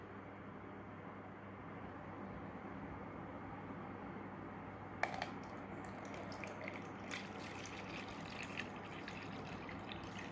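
A bucket filling with water from a tap, heard as a faint, steady watery rush with light dripping and splashing that grows busier partway through.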